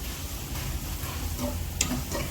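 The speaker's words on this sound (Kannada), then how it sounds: "ಒಗ್ಗರಣೆ ಮಾಡಿದ್ವಿ." Spices tempering in hot oil give off a steady, close crackling sizzle that sounds like frying, with faint stirring and no talk.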